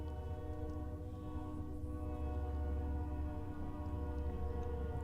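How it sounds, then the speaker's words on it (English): A train rumbles past outside a church, a steady low mechanical drone with sustained horn-like tonal layers, continuous and moderately distant, with no talk over it. "I'm going to apologize right now for the passing train"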